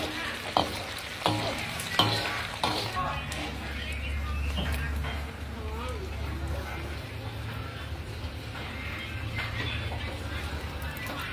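Crispy fluffy catfish is stirred and fried in a pan, a steady sizzle with scraping stirs and a few sharp knocks near the start, and someone talks at times over the cooking.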